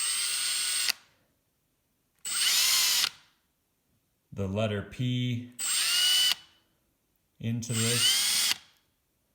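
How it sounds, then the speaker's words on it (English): A power drill engraving a letter on a salt or pepper shaker whirs in four short, loud bursts, with a person talking close by in the pauses between them. "I'm going to just drill"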